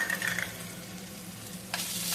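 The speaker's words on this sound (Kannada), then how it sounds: "ಹಾಗೆ ಸ್ವಲ್ಪ ಬೆಳ್ಳುಳ್ಳಿನೂ ಬಿಸಿ ಮಾಡೋಕೆ ಹಾಕ್ಕೊತೀನಿ" Garlic heating in a spoonful of oil sizzles softly while it is stirred, with scraping strokes at the start and a fresh burst of frying near the end.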